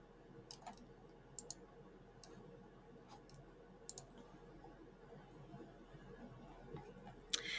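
Sparse, quiet computer mouse clicks during work through a maths teaching resource, arriving as single and paired sharp ticks over a faint room hum, with one louder click near the end.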